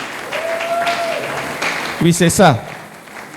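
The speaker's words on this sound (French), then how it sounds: "Nous pouvons acclamer pour l'encourager." Church congregation cheering and applauding to encourage their patriarch pastor, a short burst of clapping and shouts rising near the end after a brief spoken phrase, fairly loud and close.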